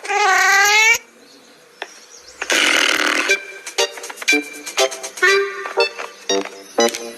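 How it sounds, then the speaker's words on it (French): A cat gives a few meows and chirpy mews in short bursts, interspersed with bright squeaky toot-like sounds and brief pauses of quiet. "Gentil minou."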